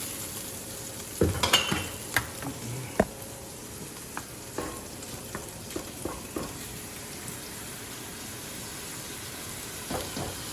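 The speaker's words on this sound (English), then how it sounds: "put that second batch on in this piping hot skillet" Meat sears in a piping hot skillet for a hearty Asian-spiced stew, a steady sizzle broken by several sharp clatters and stirring knocks near the start, then quieter scattered taps.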